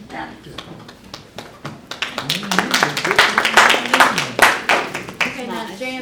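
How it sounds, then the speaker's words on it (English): Several sharp hand claps ring out in a loose, uneven rhythm at a community meeting, fairly close and loud, mixed with overlapping talk from people in the room. "Somebody's clapping their hands, right?"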